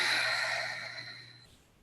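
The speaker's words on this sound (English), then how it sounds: "You take a deep breath in" A single deep breath drawn in and slowly let out during a quiet Reiki meditation, a soft, airy breath close to the microphone that fades gradually over a couple of seconds.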